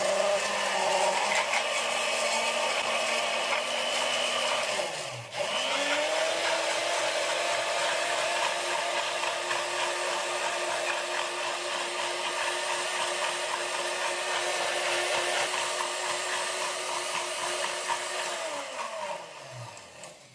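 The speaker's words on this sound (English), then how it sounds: "First, we're going to mix it on low for 3 seconds, and then we're going to go to high for 1 minute" A milkshake maker mixes in a metal cup, with a steady motor whir that briefly drops and then rises to a higher-pitched, louder spin that holds for a long stretch before winding down at the end.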